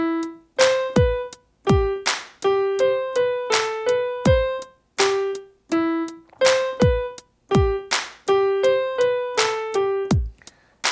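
Piano playing the opening measures of a song at a slow tempo, with separate plucked-sounding notes and chords that ring and decay in a steady rhythm, heard alone and close.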